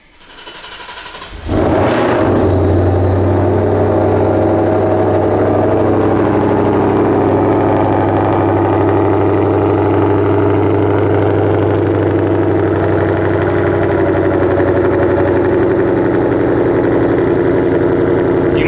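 A GT500 engine with fueling issues fires up after a brief crank and settles into a loud, close, steady idle with a deep rumble that holds evenly to the end.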